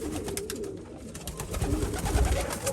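Racing pigeons coo softly in a loft, low rolling calls repeating close by over a rough, noisy background.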